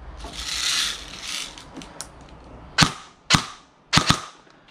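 Pops from an ARP9 airsoft gun fitted with an amplifier, close and sharp: a few single shots and a quick pair, with some mechanical clicking and handling noise between them.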